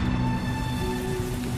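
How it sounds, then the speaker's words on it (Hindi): Heavy torrential downpour over a village, a constant dense roar of falling water with an even hiss and a faint steady tone running through it. "एक दिन बहुत तेज बारिश होती है। मूसलाधार बारिश का वेग बढ़ता ही जाता है।"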